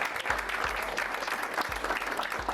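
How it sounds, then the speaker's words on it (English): A studio audience applauds a motivational speaker's guests, a steady, dense wash of clapping that holds evenly throughout, with a few low thumps underneath. "A round of applause for all my guests, everybody."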